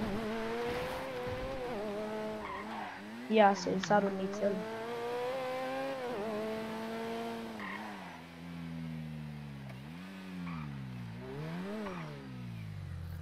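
A car driving in GTA 5 Online, its engine a steady hum that rises and falls with revving, with a brief squeal or skid partway through, under continuous talk from players.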